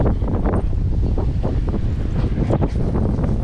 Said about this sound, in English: That wind was supposed to be dying down around this time. It definitely feels like it's picking up.